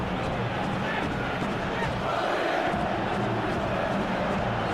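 Crowd noise from a football video game, a steady roar of cheering and murmuring that swells slightly midway and carries on throughout without a break.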